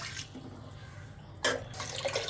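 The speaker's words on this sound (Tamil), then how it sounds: "இப்போ நம்ம 6 டம்ளர் தண்ணி விட்டாச்சு." Water pours steadily into a cooking pot for spicy pongal, starting abruptly partway through with a splashing rush after a quieter stretch of low background hum.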